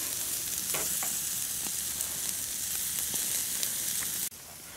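Pork chops and potatoes sizzle and fry on an outdoor stove in bad weather: a loud, constant crackling hiss with occasional sharper pops, dropping slightly in level near the end.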